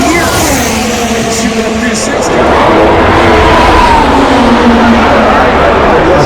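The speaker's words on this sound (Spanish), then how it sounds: "ahí pueden escuchar el sonido de estos motores, de estos carros." Formula 1 cars roar past at the Miami Grand Prix track, loud high-pitched engine whines sweeping by one after another against a steady crowd and ambient wash.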